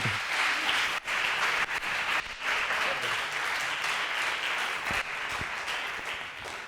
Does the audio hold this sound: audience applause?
yes